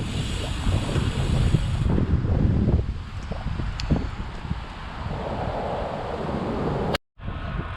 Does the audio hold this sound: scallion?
no